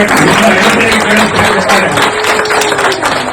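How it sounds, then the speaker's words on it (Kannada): Loud, dense applause from a gathered crowd welcoming a swamiji at a home function, a continuous wash of many hands clapping close by, with some voices mixed in. "ಚಪ್ಪಾಳೆ ಜೋರಾಗಿ"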